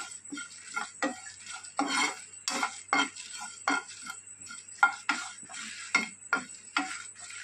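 Whole spices for a roasted masala dry-roasting in a pan, stirred with a utensil that scrapes the metal in repeated short bursts, close and moderately loud with brief quiet gaps between strokes and no talking.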